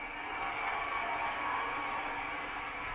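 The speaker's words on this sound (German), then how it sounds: "F1, Fahrgeräusch." Running sound from a PIKO TT-scale digital model of a BR 55 steam locomotive, a steady, fairly loud hissing chuff that stays even throughout without pauses, alone.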